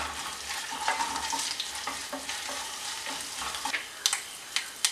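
Mustard seeds, ginger, dried red chillies and curry leaves frying in hot oil for a Kerala kumbalanga pachadi tempering, giving a steady close crackle with sharper pops and spits toward the end.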